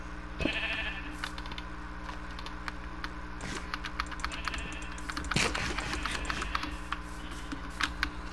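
Sheep in the Minecraft video game give a few short bleats over a steady low in-game hum, along with scattered keyboard and mouse clicks from someone playing.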